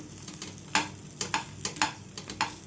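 Pesarattu, a moong dal crepe, crisps on a hot pan as a spatula presses it down, giving a run of soft scraping taps at an irregular beat over a faint background sizzle.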